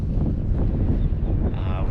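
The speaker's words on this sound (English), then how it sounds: "It's a little windy." Gusty wind buffeting at Lake Waco, rumbling and steady across the whole moment.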